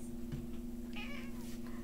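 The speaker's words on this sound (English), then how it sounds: "She is a one-eyed cat, or one-and-a-half-eyed cat." Near, clear meows from a one-eyed cat, rising and falling over a steady low electrical hum in a quiet room.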